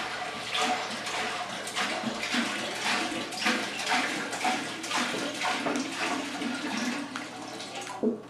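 A gallon of distilled water pours steadily from a jug into a container for making ballistic gelatin, a continuous close splashing gush that runs the whole time without pause, with no voice.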